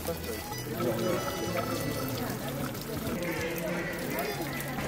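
Drinking water pours steadily from a fountain at the grotto in Lourdes, a continuous splashing flow close to the microphone, with voices murmuring in the background.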